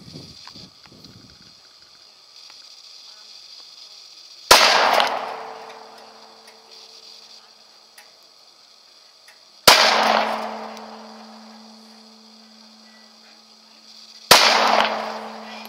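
Three sharp gunshots from a deer hunt ring out several seconds apart, each a loud crack with a ringing decay, after a quiet stretch.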